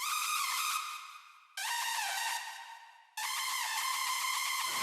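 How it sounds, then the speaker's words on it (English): A textured synth lead played over chords in FL Studio for an EDM track, three sustained bright phrases with gliding pitch, each fading before the next, ending in a downward sweep. "Add some sort of textured lead on top of the chords."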